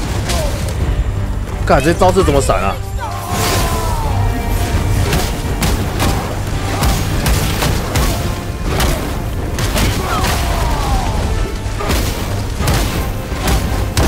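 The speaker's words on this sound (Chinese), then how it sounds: "新招式，新招式！ 会爆炸，会爆炸，会爆炸！" Loud booming explosions and combat blasts from the God of War video game roll on steadily, layered with game effects while a player exclaims over them.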